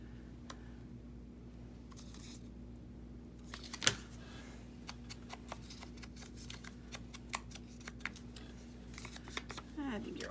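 Scissors snip paper ephemera for a handmade journal, a series of crisp little cuts, close and quiet, spread through the clip while a person talks.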